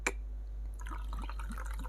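Tonic water poured into a drink mix, a faint liquid trickle and fizzing drips after an initial knock, quiet and close against a steady low hum.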